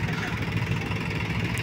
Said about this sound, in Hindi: देखो जी कौन सा ट्रैक्टर बेहतर जोर लगा रहा आप बताओ।